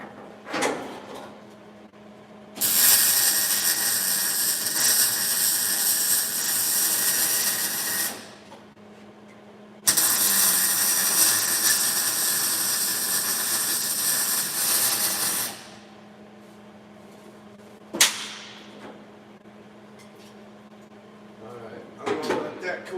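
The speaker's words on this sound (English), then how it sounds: "I can go ahead and weld that" Welding on car strut mounts gives two long bursts of loud steady hissing crackle, each several seconds long, separated by quiet pauses, followed by a short sharp clank and some handling noise.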